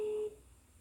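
An unanswered telephone call on a line going to voicemail gives a single steady electronic tone lasting about a third of a second, then cuts to a faint hiss.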